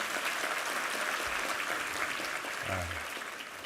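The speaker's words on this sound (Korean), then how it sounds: "우리 챔버팀과 이번 특순팀 우리 한번 격려 박수 부탁합니다." Steady applause from a church congregation during a Sunday worship service fills the whole stretch, dense and even, with a brief low voice sound near the end.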